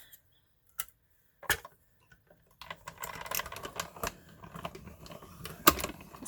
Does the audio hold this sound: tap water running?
no